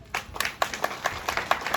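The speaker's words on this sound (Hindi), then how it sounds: "तालियां बजा दो।" Audience clapping at a gathering, a moderate patter of many hands with slightly uneven rhythm, fairly close and steady over a couple of seconds.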